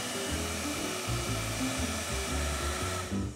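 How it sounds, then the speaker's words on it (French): A hair dryer blowing heat onto a magic notebook's page, a steady loud whooshing roar with fan whine running unbroken for the whole stretch, no voices. "je vais utiliser un sèche-cheveux."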